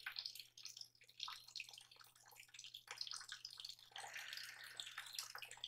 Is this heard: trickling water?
yes